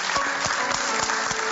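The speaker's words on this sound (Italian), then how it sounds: "Un applauso a Stefano." Loud studio audience applause on an Italian local TV show for a national pastry champion, a dense continuous burst of clapping with no talk over it.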